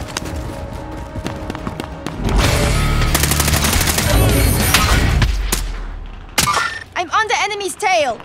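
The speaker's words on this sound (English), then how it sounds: "Taking heavy fire here." Heavy automatic gunfire and explosions in a Call of Duty Warzone battle, a dense sustained burst building to a loud barrage, then tapering into scattered shots and bright ringing metallic bursts, with game voice chatter mixed in.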